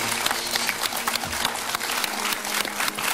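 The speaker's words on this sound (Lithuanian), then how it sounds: "Sakalas ir Juozas ploja patys sau" Two quiz show contestants in a television studio clap for themselves, a continuous, close burst of hand clapping with only a faint hint of voices beneath it.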